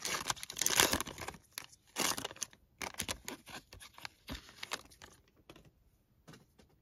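A foil pack of Prizm basketball cards is torn open close up, with bursts of crinkling and ripping that come and go over several seconds and fade to quieter rustles, no voices.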